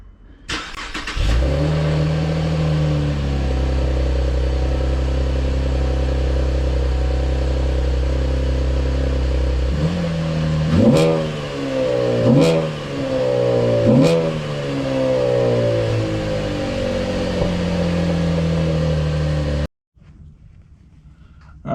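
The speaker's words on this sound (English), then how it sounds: "we're going to do a cold start on the stock exhaust," A V6 Camaro on its stock exhaust cold-starts with a quick crank and catch, then settles into a steady, loud idle. Three short revs rise and fall midway before the engine shuts off. No one speaks.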